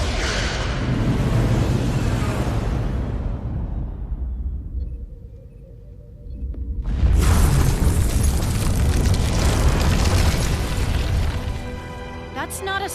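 Starship weapons fire and explosions in Star Trek Resurgence roll out as heavy, sustained booming blasts, easing into a quieter lull before a second loud wave of explosive rumble hits.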